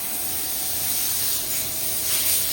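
Continuous hiss of compressed air blowing dust toward a wall in a garage where a 1984 C10's doors are being painted, a steady close spray that swells slightly near the end.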